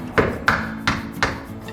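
A hammer strikes a screwdriver four times to tap a hinge pin out of a door, giving sharp metallic knocks at an uneven pace, close and fairly loud.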